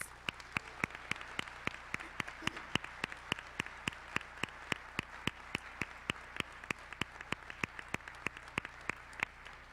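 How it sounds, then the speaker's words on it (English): Audience applause for newly inducted juniors at a National Honor Society ceremony, steady many-handed clapping with sharp regular claps standing out, moderately distant and continuous throughout, no talking. "Let's give these juniors a round of applause."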